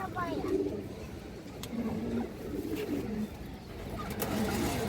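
Pigeons coo steadily and close by at a pigeon farm, with soft repeated cooing over a busy flock background throughout, while someone talks over it.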